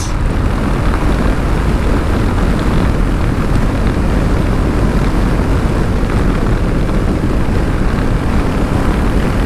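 A Royal Enfield Classic 350cc motorcycle runs at top speed on an open road. A steady, loud, unbroken roar dominated by rushing wind fills the whole stretch.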